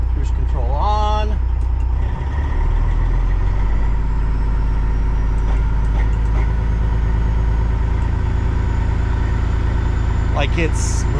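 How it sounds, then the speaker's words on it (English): The engine of a Kenworth cabover truck under restoration runs smoothly at a steady low idle rumble, loud and close, with an air hiss at the start and a brief click near the end. "Listen to that. Smooth as butter."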